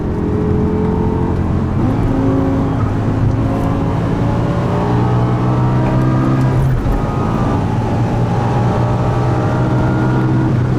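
A supercharged 800 HP G-Power BMW M5 V10 Bi-Kompressor Hurricane RR accelerates hard on the German Autobahn, its engine whine rising through the gears with a brief dip at a shift, loud and close throughout.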